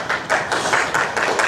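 An audience claps at a return-to-work summit, a short burst of close, steady, overlapping hand claps with no voices over it.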